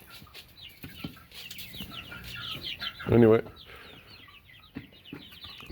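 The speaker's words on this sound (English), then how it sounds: "And that's my rooster Chubbs. He's a Barrett Rock Silky mix." A Barred Rock Silkie mix rooster clucks close by, with a loud burst of clucking midway amid scattered farmyard bird calls, while a person speaks briefly.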